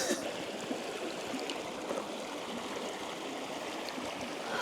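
A cold mountain stream runs steadily beside a van-life stop in Spain, its water rushing and babbling close by as a continuous bright wash with no voices.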